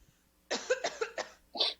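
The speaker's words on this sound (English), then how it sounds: "My allergies are super bad right now, so I might have to cough." Cough from a person with bad allergies: several rough, close coughs in a quick cluster, then a short pause and one more harsh cough, with no talking.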